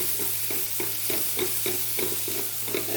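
Vegetables and onions frying in a pan for an egg masala burger filling, a steady sizzle with rhythmic stirring scrapes every half second or so, close and moderately loud, no voices.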